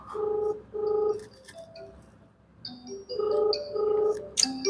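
A telephone ringing on an outgoing call in a Punjabi household drama, with repeated tonal ring bursts separated by short gaps, fairly clear and close, followed by a brighter chirp near the end.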